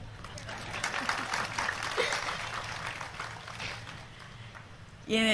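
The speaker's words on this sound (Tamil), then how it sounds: "இதை விட கொஞ்சம் நல்லா வராது கைத்தட்டல்" Audience applause fills a hall at a Tamil pattimandram debate show, a steady dense patter of clapping lasting several seconds before a voice cuts in at the very end.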